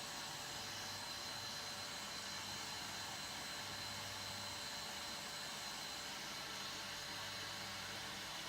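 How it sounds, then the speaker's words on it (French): A vacuum cleaner runs steadily as a constant broadband whooshing drone with a faint high whine, holding even and unbroken throughout at a moderate distance. "Lorsque l'aspirateur est en marche"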